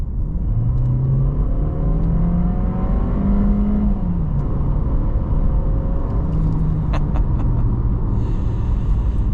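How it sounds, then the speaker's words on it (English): A VW Jetta Sport with a 1.5-liter turbocharged inline-4 pulls hard at full throttle from about 25 mph, its engine note climbing steadily through gear changes, loud and close from inside the cabin. "we'll mash the throttle and see what we can do"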